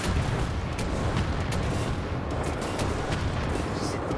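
Rocket explosions and gunfire in the first-person shooter Wolfenstein: The New Order, a dense, loud, continuous roar of blasts and booms with no clear gaps.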